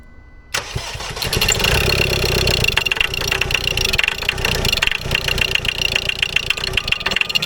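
A rebuilt car engine with new injectors and a new turbo cranks and fires, then runs loudly and roughly with a steady rattling, knocking texture for several seconds, close by.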